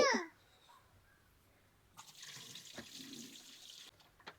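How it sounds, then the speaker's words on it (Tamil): After a brief voice and a quiet pause, water pours out in a steady rushing stream for about two seconds, close by. "இந்த மாதிரி அஞ்சு குடம் தண்ணி நீ ஊற்றணும்"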